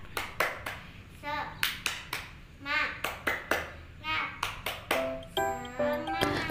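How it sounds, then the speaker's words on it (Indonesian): A rhythmic hand-clapping concentration game plays out in a tutoring class: short patterned bursts of claps alternate with children's chanting voices, close and clear, and the pattern repeats several times. "di sini aku biasanya cek konsentrasi dengan tepuk-tepuk."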